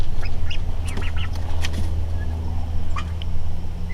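Turkeys gobble in repeated bursts near a duck pen, with quacks mixed in. The calls sit over a constant low hum, and no one speaks.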